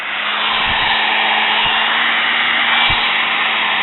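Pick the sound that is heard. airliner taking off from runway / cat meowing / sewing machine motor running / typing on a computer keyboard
sewing machine motor running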